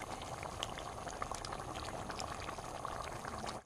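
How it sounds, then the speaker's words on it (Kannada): Chicken curry simmers in a pot with fresh coriander leaves added, giving a close, continuous bubbling and popping that stays dense and even throughout, with no voices. "ಮತ್ತೆ ಒಂದು ಸ್ವಲ್ಪ ಕುದಿ ಬಂದರೆ ಚಿಕನ್ ಗಸಿ ರೆಡಿ ಆಗ್ತದೆ."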